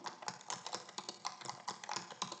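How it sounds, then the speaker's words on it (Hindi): Quick, light taps from a braille keyboard device for the blind as a Hindi name is entered, a steady rhythm of soft clicks with no voices over them. "अब मान लीजिए मुझे मनीषा लिखना है, तो मैं लिखती हूँ"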